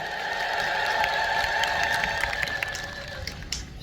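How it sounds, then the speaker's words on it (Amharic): Church congregation at a sermon ululating in praise, a sustained high trilling chorus over a dense bed of crowd noise and scattered clapping, loud and continuous throughout. "እልል ብላችሁ እግዚአብሔርን አመስግኑ"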